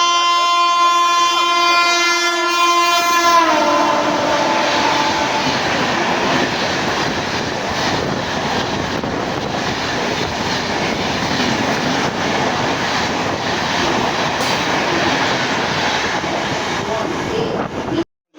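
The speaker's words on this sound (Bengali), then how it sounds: "ট্রেন ঢুকে গেছে" A passenger train rolls into a station, its horn blaring loud and sustained at first, then giving way to a steady roar of wheels and carriages rumbling past close by for the rest of the time.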